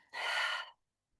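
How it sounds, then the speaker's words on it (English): A single deep, breathy exhale through an open mouth during a gentle joint-mobility breathing exercise, close and fairly loud, lasting about half a second before silence. "And then you might open your mouth as you exhale"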